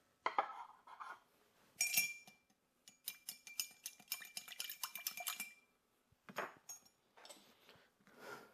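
A spoon stirs a maple old fashioned cocktail without ice in a glass, giving bursts of bright clinking and ticking against the glass in uneven runs with short pauses, close and fairly quiet.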